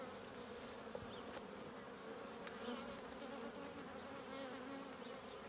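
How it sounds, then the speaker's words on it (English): Honey bees hum around a beekeeper at the hive, a steady close buzz with individual bees drifting near and away, with no talk. "This one's really annoyed next to me."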